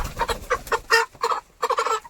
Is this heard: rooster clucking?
yes